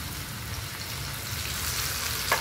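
Hand-crushed tomatoes fry in a pan with a continuous soft sizzle, nearby and even, with a faint stir or scrape near the end.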